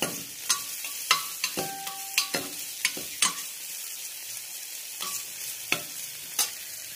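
A spatula stirs chopped garlic and chili frying in a pan for mutton soup, with crisp, irregular scraping strikes over a soft background sizzle, close and without talking.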